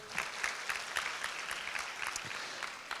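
A high school church congregation bursts into applause, dense clapping from many hands sustained evenly across the moment, with no speech over it.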